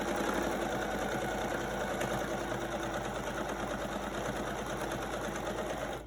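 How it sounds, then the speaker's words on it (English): A sewing machine stitches quilt pieces for a modified nine-patch quilt top, a steady rapid mechanical whir that runs continuously at moderate, close level with no talking. "I'm just going to sew right over top of that real fast."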